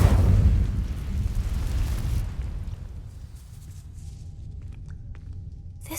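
An Incendio fire spell ignites dry vines in Hogwarts Legacy, starting with a deep whooshing burst that fades into a low rumbling crackle, with a few faint clicks toward the end.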